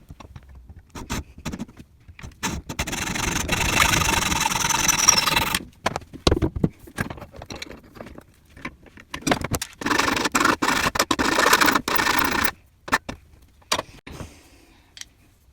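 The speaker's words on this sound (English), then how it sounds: "Trimming down and filing off the bolt where the little tab mounts." Hand filing on a metal bolt of a 110cc pit bike, with repeated rasping scrape strokes in uneven bursts and short pauses between, close and moderately loud.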